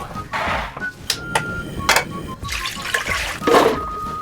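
Chestnuts rinsed under running water, with a splashing, trickling stream broken by short bursts and drips at close range.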